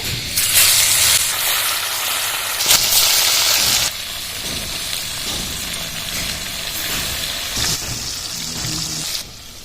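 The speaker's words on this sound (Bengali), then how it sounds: "সেটাকে মাছগুলো ছেড়ে দেবো তেলে" Small chela fish fry in hot oil in a wok, giving a loud, steady sizzling hiss with bursts that swell and ease, close by and without voices.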